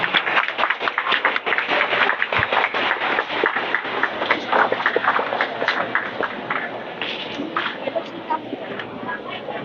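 Applause fills a church at an Adventist Pathfinder music event, a dense crowd clapping steadily and loudly for several seconds with scattered claps standing out.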